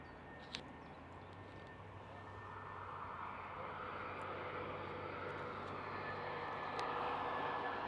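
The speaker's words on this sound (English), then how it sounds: "Ryanair's just landed as well." A Ryanair passenger jet landing at Manchester Airport roars from a distance, its engine noise swelling gradually and staying steady and moderately faint, with no talk.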